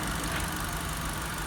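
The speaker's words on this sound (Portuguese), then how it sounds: "E olha como o motor está falhando bastante, ó. Tá vibrando." A 2.0 Flex Kia Sportage idles with a misfiring engine, a steady rough rumble with uneven pulsing, close and fairly loud with no talking.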